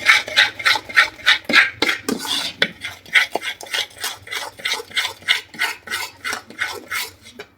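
A spoon scraping and clinking rhythmically against a bowl as baking soda is stirred into a peanut brittle (chikki) mixture, around a dozen quick regular strokes, close and clear.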